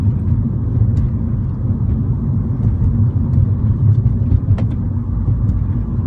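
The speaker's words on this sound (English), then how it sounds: "The engine, it sounds a lot like a tractor, but it's quite surprising for Porsche." Inside a Porsche 911 Turbo S on the move, the engine rumbles in a steady, loud, low drone with a tractor-like character, mixed with road noise and occasional small knocks from the cabin.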